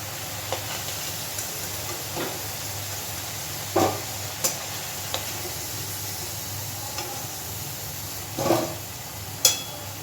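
Fried potatoes being lifted out of hot oil give a soft, continuous sizzle, broken by a few sharp scraping and clinking taps of the utensil against the pan, fairly quiet and close.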